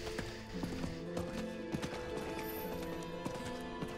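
Horse hooves clip-clopping during a ride in an Xbox video game, a quick steady rhythm of hoofbeats over droning game music with no talk.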